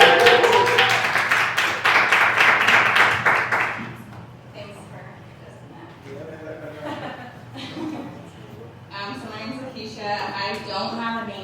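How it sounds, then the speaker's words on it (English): At a slam poetry night in a Denver studio, the audience claps loudly for about four seconds as a poet is welcomed to the stage, then the clapping fades and people talk and murmur. "Give a round of applause."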